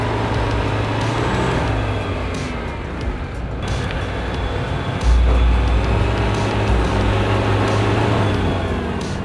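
A UAZ off-road vehicle climbing an off-road slope, with a continuous loud engine roar and rumble that swells and deepens midway, a steady near motor drone and no talk.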